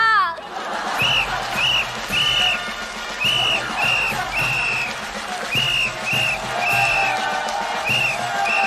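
A studio audience applauds as contestants are welcomed on stage at a neighborhood football team tryout, steady clapping mixed with repeated whistle-like musical tones and background voices.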